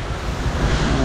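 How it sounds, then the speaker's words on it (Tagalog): Heavy rain pours down in a steady, dense hiss and roar, with a low rumble beneath. The sound is continuous and unbroken, and no voices are heard. "Ang lakas ng ulan, no?"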